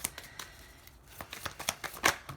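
Tarot cards being shuffled in a quiet room, a run of soft papery riffles and flicks that grows busier toward the end, with one louder burst near the close and no talking.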